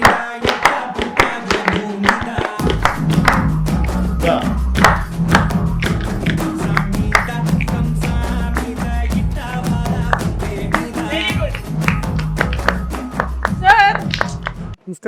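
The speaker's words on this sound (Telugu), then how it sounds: "క్లాప్ చేయండి బ్రో, క్లాప్." A group of people clap steadily and rhythmically, close by, over a low musical beat, with voices occasionally heard among the claps.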